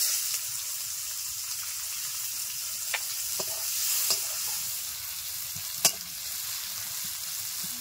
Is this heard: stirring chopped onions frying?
yes